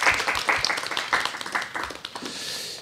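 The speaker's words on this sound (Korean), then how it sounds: "객석에 계신 분들한테도 박수 좀 부탁드리겠습니다" Brief round of clapping from a modest audience at a music network forum, with distinct close claps that thin out and fade toward the end.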